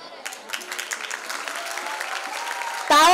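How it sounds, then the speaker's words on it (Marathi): Applause fills an auditorium at a felicitation ceremony, a dense, steady clapping from the audience that swells and then cuts to a louder burst as a voice starts over it. "टाळ्यांचा आवाज अजून जोरदार आला पाहिजे"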